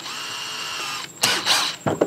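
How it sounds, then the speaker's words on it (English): Bursts of a power drill spin up over a steady background hum, a couple of short drilling runs close by while refurbishing a golf cart seat. "give me something to align perfectly when I drill in"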